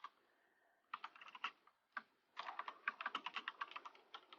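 Fingers typing on a computer keyboard, close and fairly quiet, starting with a short burst, pausing, then a quicker run of light clicks, with no voices.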